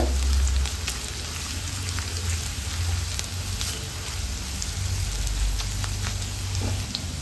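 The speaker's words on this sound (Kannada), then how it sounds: "ಶುಂಠಿ ಬೆಳ್ಳುಳ್ಳಿ ಚೆನ್ನಾಗಿ ಫ್ರೈ ಆಗಿದೆ." Ginger and garlic pieces frying slowly in a pan over low heat, a steady, dense sizzle and crackle that continues evenly throughout, close and fairly loud, with no talking.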